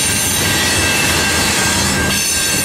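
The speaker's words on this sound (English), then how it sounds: "NS was the winner as train 64G heads south with UP SD70ACE 8338 leading the Doraville bound loaded ethanol train." A southbound Norfolk Southern freight, a loaded ethanol train led by a Union Pacific SD70ACE locomotive, rolls past close by with a steady loud roar of wheels and rail noise and faint squealing throughout.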